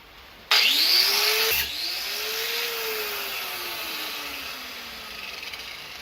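A small rotary cutting tool bites into a piece of metal for a homemade spot welder electrode clamp: a sudden loud grinding onset, then a whining motor pitch that rises and slowly sinks as the tool runs on alone.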